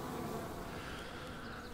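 Dense swarm of honeybees buzzing around a hive while being installed into a nucleus box, a steady close droning hum with no voices.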